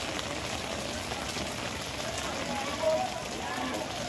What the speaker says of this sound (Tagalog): At patuloy pa rin po ang pagbuhos ng ulan.